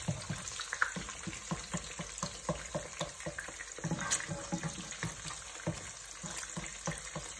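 Bacon and eggs fry in a pan for breakfast, giving a close, steady crackle of hot fat with frequent sharp pops and spits throughout, and no voices.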